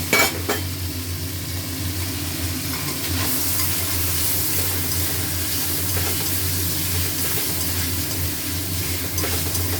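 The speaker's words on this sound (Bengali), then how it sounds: "আলুটাও কষে দেখুন তেল ছেড়ে গেছে মশলা থেকে" Steady, loud sizzling of potatoes frying in spiced oil, with a spoon scraping and stirring the pan throughout and no voices.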